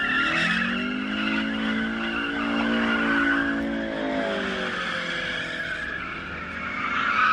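Car tyres squeal in prolonged wheelspin and skidding, a loud continuous screech with wavering pitch and engine roar underneath, held for the full seven seconds.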